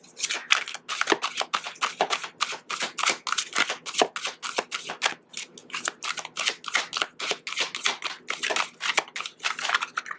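Tarot cards being shuffled continuously and rapidly, a dense run of crisp riffling flicks, close up with no talking.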